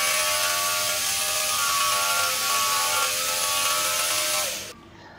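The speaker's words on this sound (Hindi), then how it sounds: "होल करने के बाद जिक्सा मशीन से यहाँ पर कट करूँगा।" A jigsaw cuts through a wooden panel for a homemade sound bar speaker, a loud, steady buzzing whine of the blade running continuously for several seconds before abruptly stopping, with no talking.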